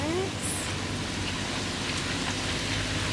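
Steady rain patters on a car at a campsite, a dense even hiss of drops continuing throughout with no break.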